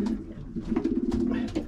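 A racing pigeon guarding its young birds gives low, throaty coos, close and steady, rolling continuously through the moment.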